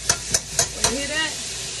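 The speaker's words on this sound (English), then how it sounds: "when you hear that, that sizzle, I mean, it's ready" Eggs frying in melting butter in a hot pan for breakfast, a steady close sizzle under four sharp clinks of a utensil against the pan near the start.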